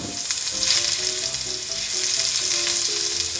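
Ginger sautéing in hot cooking oil, giving a bright, continuous sizzle close up with faint tonal sounds in the background and no talking.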